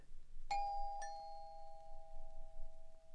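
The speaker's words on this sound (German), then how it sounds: "Aber dann hat's geklingelt." A two-tone ding-dong doorbell chime on a 1981 German children's story record rings out clearly, with two strikes half a second apart and long sustained tones fading over a quiet background.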